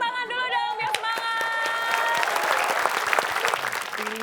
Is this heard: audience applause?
yes